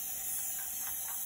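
Oil rubbed bronze spray paint hissing steadily from an aerosol can at close range, one continuous burst.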